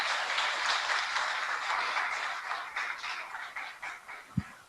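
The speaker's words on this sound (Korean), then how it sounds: "우리 교수님 우리 어, 힘차게 박수로 어, 환영해 주시기 바랍니다" A hall audience applauds to welcome a professor at a homecoming-day welcome address, a steady, even wash of many hands clapping that thins slightly toward the end, with one sharp thump near the close.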